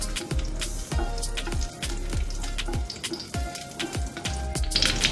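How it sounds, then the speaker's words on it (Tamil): Raisins frying lightly in ghee for sakkarai pongal, a soft sizzle under a steady run of close spoon scrapes and taps, roughly twice a second. "இதையும் சேர்த்து லைட்டாக வறுத்துக்கோங்க."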